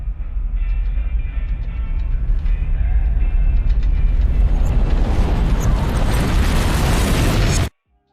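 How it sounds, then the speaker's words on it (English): A nuclear bomb explodes in Hitman Absolution: a loud, sustained roaring blast that swells into a broad rushing wall of noise for several seconds before cutting off abruptly. "if you shoot the precariously hanging nuclear bomb, this will happen."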